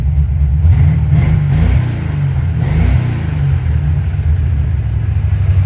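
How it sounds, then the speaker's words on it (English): Deep rumbling car engine with a newly fitted Edelbrock 1405 carburetor close by, briefly revving a couple of times before settling back into a steady low idle while warming up in cold weather. "Let's see if it takes throttle input."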